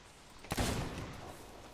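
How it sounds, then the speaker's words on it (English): A single sniper rifle shot in a pirate-themed video game: one sharp, loud crack followed by a long rumbling tail that fades slowly over a steady background hiss. "I'm going to get the sniper rifle and take him out"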